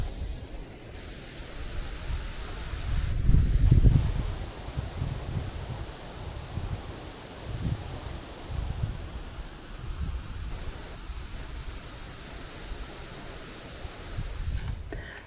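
Wind buffets and rumbles against the microphone throughout, with a stronger gust partway through.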